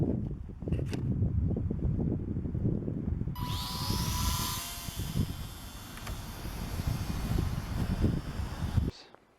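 Outdoor breeze buffets the microphone in low rumbling gusts during a flight of a WLtoys F949 Cessna 182 micro RC airplane, joined midway by a thin high motor whine that cuts off near the end.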